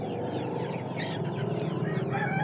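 Several Kadaknath desi chickens on a poultry farm cluck continuously and fairly close, their overlapping calls forming a busy, steady chatter with no talking.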